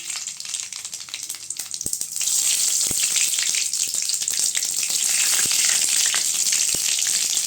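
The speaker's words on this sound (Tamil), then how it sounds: "இப்போ கடுகு சேர்த்துக்கலாம்." Mustard seeds frying in hot oil in a wok-style pan for eggplant poriyal, a loud steady sizzle that swells after a couple of seconds, with sharp crackles and pops scattered throughout, close up.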